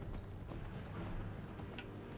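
Horse hooves clip-clop in a steady rhythm while riding in the Skyrim video game, a continuous quiet patter of footfalls with no talk over it.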